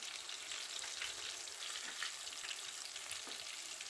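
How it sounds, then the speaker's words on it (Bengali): Chicken pieces deep-fry a second time in oil over low heat, giving a steady, fairly quiet broadband sizzle with faint crackles, continuous throughout and no talking. "এগুলো আস্তে আস্তে করে সুন্দর করে লাল লাল করে ভেজে নিতে হবে"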